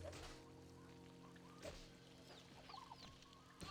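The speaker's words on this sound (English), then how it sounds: "I found the exact chicken clip that scared me" Quiet chicken clucking in a game clip, a few short clucks and squawks scattered over a low steady hum.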